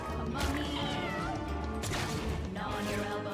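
Spider kittens in the game Mewgenics meow over a continuous game soundtrack, two or three drawn-out cat cries rising and falling, fairly loud and close.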